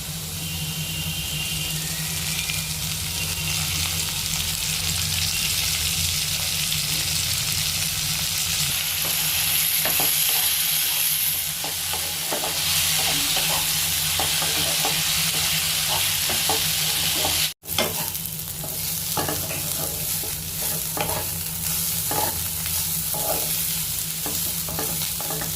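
Jukti flowers fry with softened potato in a pan, a steady, close sizzle broken by repeated scraping and clacking of stirring throughout, with no talk.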